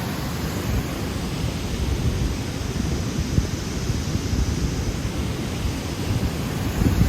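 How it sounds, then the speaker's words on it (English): A broad, constant roar of the Androscoggin River pouring over a flood-control or hydroelectric dam fills the scene, steady and fairly loud with slight swells and no voices. "The Androscoggin River."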